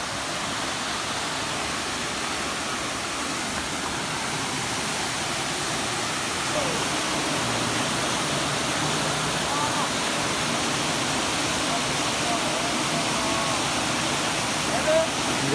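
A waterfall roars in a continuous, dense rush of falling water that fills the whole span without pause, loud and unchanging, with no distinct individual sounds rising above it.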